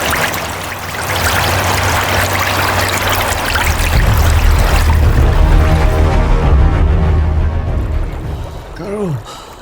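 Water pouring from a pipe, a loud steady rushing gush running continuously, with a voice speaking briefly near the end.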